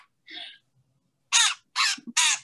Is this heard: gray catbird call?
yes